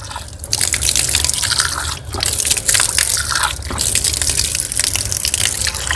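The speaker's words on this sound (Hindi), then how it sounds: "तो इस तरीके से आप 3 मरतबा चेहरा धोएं।" Water splashes and drips continuously and loudly as a face is washed by hand during wudu ablution, with short pauses between handfuls.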